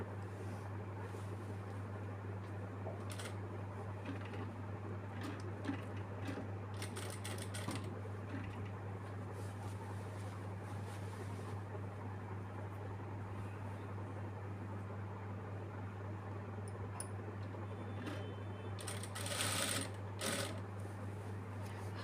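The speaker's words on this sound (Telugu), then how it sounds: "పెట్టుకుని రౌండ్ కుట్టేసుకోవాలి ఒక కుట్టు." A sewing machine runs a round seam on a child's lehenga, its steady mechanical hum continuing close by for the whole stretch with small bursts of stitching, no voices.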